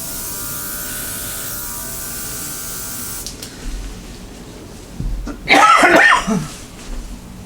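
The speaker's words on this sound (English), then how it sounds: "I don't know why I'm coughing" A quiet, steady background hum, then one harsh, close cough burst that rasps briefly before fading out.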